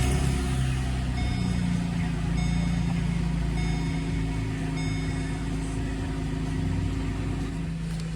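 A VE Holden Commodore with nearly 300,000 km on it and a torque converter clutch fault runs at a steady, close engine idle, with faint regular beeps chiming at intervals.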